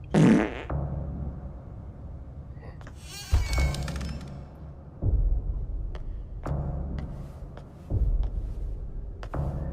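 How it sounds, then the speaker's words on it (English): Cartoonish fart noises from the monster Godzilla, heard as several separate low blasts with squeaky, bleat-like edges, spaced a few seconds apart over a quiet background. "Godzilla, would you stop farting all the damn time?"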